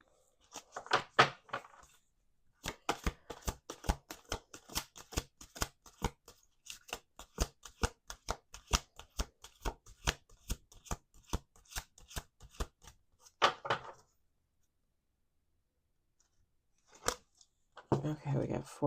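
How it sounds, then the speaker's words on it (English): A deck of cards is shuffled by hand at a table in a long run of crisp, rapid riffling clicks and snaps, close and fairly quiet, with brief pauses and a little talk around it. "We're going to do one more shuffle."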